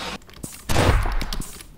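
Enemy guns fire in the video game Cobalt, a rapid burst of loud gunshots that swells into a sustained rattle of overlapping shots after a quieter opening, with no talking.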